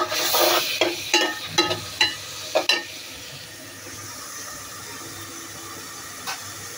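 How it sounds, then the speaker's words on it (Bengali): Spices and vegetables sizzle in a hot pan while being sautéed, with a steady frying hiss and several sharp scraping stirs of a utensil in the first few seconds before the sizzle settles. "এগুলো একটু ভালো করে কষুক, ততক্ষণে আমরা কষতে দিই।"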